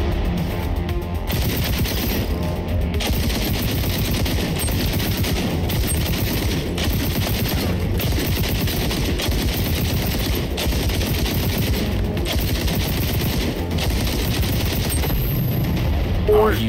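Continuous automatic gunfire at targets in the video game XDefiant, loud rapid bursts with brief pauses for reloading, unbroken across the whole stretch.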